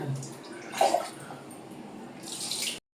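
Water poured from a vessel into marinated chicken for Hyderabadi-style biryani, a short steady splashing pour with a brief louder gush near the start and a brighter rush just before it cuts off.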